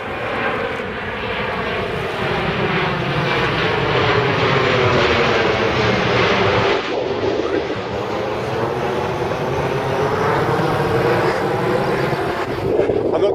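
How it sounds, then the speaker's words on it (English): A fixed-wing aircraft passes overhead in the Essex countryside near Braintree, a loud broad engine roar that swells and holds with a slight pitch shift midway, steady throughout with no talk over it. "There's the next aircraft."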